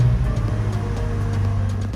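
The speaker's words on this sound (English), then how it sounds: "So once we start the vehicle" A 2023 BMW M5 engine running just after starting, a steady low rumble with a strong droning low tone held evenly throughout at close range, no voices.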